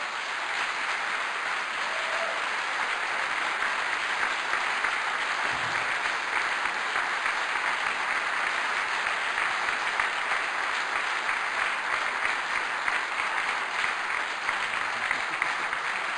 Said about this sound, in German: der Applaus gilt nicht nur dem Vortrag, sondern auch dem Engagement über Jahre